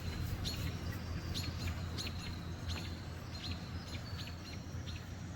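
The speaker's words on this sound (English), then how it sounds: "and the woodpeckers are chasing him" Woodpeckers mob a hawk perched high in a wet wooded area, giving a series of sharp, repeated high calls at a moderate distance over a low, steady background rumble.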